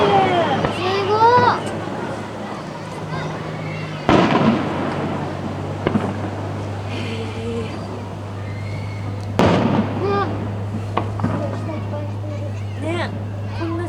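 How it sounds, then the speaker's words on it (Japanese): Fireworks bursting at a fireworks festival, several sharp booms standing out against a steady low hum and crowd murmur, with people talking and reacting throughout. "こんな時期に花火見られると思わなかったね"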